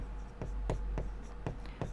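Chalk or marker writing on a board during a Hindi-language math lesson, five rhythmic taps and strokes over a steady low hum, with faint speech in the background.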